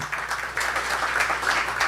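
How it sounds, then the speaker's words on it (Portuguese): Brief, moderately loud applause from a church congregation during a worship service, a steady patter of clapping hands. "Se você puder aplaudir o Senhor Jesus"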